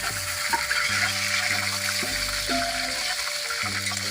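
Curry leaves and green chillies fry in a pan in a village kitchen, throwing off a loud, dense, crackling sizzle that runs throughout with bursts of spattering. No one speaks.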